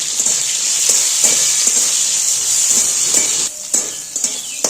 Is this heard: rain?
no